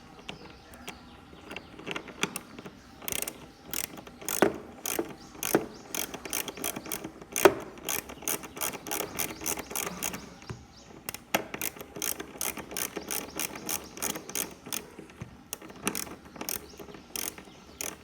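Ratchet wrench clicking in quick repeated bursts while bolts come off a Bajaj NS 200 motorcycle, sharp close ratcheting runs with short pauses throughout, no talking.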